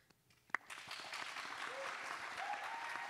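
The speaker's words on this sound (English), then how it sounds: "You wanna all practice clapping?" A crowd at a high school theatre awards night practices clapping, starting with a sharp shout, then building into sustained, fairly steady applause with scattered cheers.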